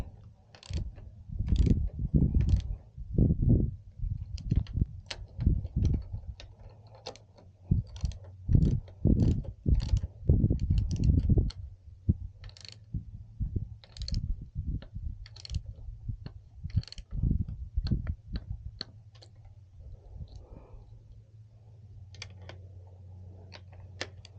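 Handlebar riser bolts are tightened on a 2022 Triumph Bonneville Speedmaster with a tool that makes a long series of close, sharp clicks and ticks, dense at first and then sparser, over a low hum.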